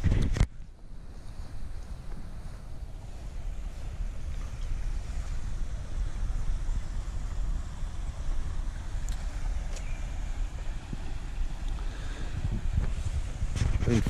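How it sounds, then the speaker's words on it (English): Allyn Brook, a river, runs steadily throughout as a constant broadband rush of water, mixed with gusts of wind buffeting the microphone outdoors. "And then we've got the beautiful river just here."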